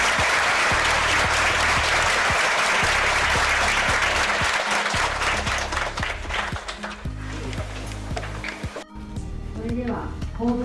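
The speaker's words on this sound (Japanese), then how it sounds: "もう一度盛大な拍手をお願いします" Loud, full applause from teachers at a lecture for Osaka Prefecture school staff, dense clapping with a low steady hum underneath, easing after several seconds as voices begin to speak.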